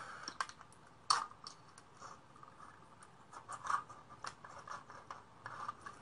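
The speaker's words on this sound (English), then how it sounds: "using scissors and my utility knife, I'm going to cut all of this off." Aluminum foil being cut with scissors and a utility knife, with close crinkling, scratchy snips and scraping strokes in irregular bursts, no talking.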